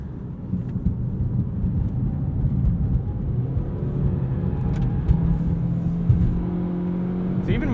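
A 2020 Toyota Corolla rolls over bumps on a back road, with a steady low engine and road drone throughout and soft thumps from the suspension under the cabin noise.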